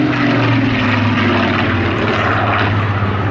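Supermarine Spitfire PR.XIX with its Rolls-Royce engine flying at an air festival, a loud, steady piston-engine and propeller drone with a strong low hum that holds constant throughout, with no voices.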